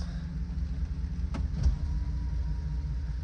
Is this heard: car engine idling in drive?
yes